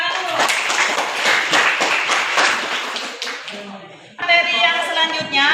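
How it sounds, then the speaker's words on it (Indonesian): A class bursts into loud, dense clapping for a few seconds in a geography lesson. The applause thins out, and then a voice starts speaking close by. "Beri tepuk tangan dulu."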